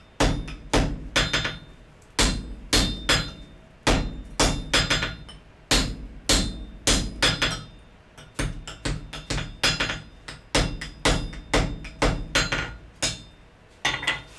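Steady hammer blows ring out on hot wrought iron with a drift set over the anvil's hardy hole, struck in quick bursts of two to five sharp, ringing impacts separated by brief pauses, close and loud.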